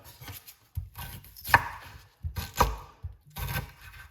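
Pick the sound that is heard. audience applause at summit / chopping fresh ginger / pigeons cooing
chopping fresh ginger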